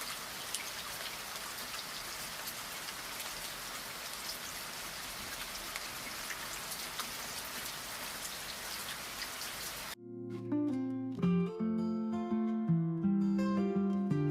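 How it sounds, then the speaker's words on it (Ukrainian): Steady rain pattering down during an outdoor barbecue for about ten seconds, then music with a melody and deep bass takes over. "а зараз райдуга, дощ, а ми смажимо шашлик"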